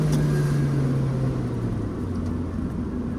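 A 2006 Mazda MX-5 NC1 fitted with an induction kit accelerates, its engine drone rising steadily in pitch under a loud, constant road and intake rumble, heard from inside the car without voices.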